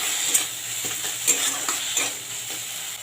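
Chopped tomato and salt frying in a pan with ginger and onion, a steady close sizzle punctuated by a few scraping stirs and light utensil taps.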